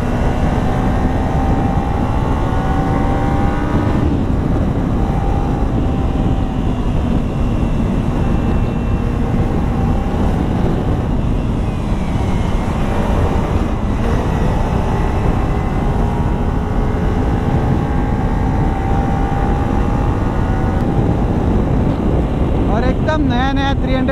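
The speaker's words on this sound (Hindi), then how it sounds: "सुपर चार्ज इंजन चालू हो गया इनका।" A Kawasaki Ninja 300 motorcycle rides Mumbai's Western Express Highway at night. Its engine drones steadily and rises in pitch as it accelerates, under constant heavy wind buffeting for the whole stretch.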